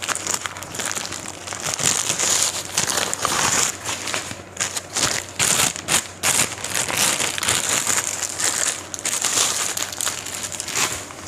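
A tripod stand is unfolded and pulled out of its packaging, giving continuous crinkling and crumpling of plastic wrap with rustling handling noises, close and fairly loud throughout.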